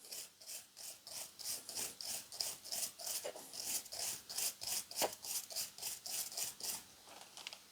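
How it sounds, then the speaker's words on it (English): Wire brush scrubbing brake dust off a caliper bracket on an Acura TSX rear brake job: a steady run of rapid, close, rasping back-and-forth strokes, evenly rhythmic and loud, with no talking. "So just hit it with a wire brush."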